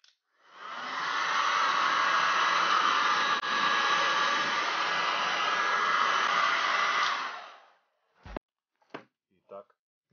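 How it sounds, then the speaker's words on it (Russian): A handheld heat gun blows steadily for about seven seconds, loud and close with a rushing whine, then cuts off, followed by a few brief knocks. "Я это делаю техническим феном, чтобы это было еще быстрее"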